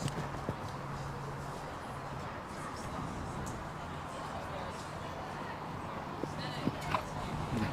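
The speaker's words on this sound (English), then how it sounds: "This horse does try to jump fences." Horse hooves clip-clopping on turf during a show jumping round at the Hickstead Nations Cup, a soft steady gait heard under crowd noise and commentary.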